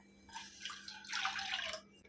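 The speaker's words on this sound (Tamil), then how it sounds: "ஒரு கப் மாவுக்கு ரெண்டு கப் தண்ணி சேர்க்குறேன்" Water pours in a short splashing stream into flour for kozhukattai dough, quiet and close with no talk.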